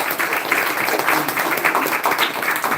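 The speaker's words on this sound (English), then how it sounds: "Please give a round of applause" Audience applause rings out during a devotional class session, a steady dense patter of clapping hands filling the room at moderate loudness throughout, with no speech over it.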